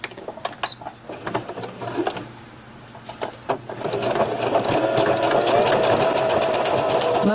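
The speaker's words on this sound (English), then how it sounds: "overcast stitch on my sewing machine" A home sewing machine runs an overcast stitch, starting with a few short bursts and stops, then settling into a steady, close, continuous whir of rapid needle strokes.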